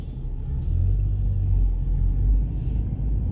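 A tow truck moves nearby with a deep, steady engine rumble that stays close and loud throughout, without any talking.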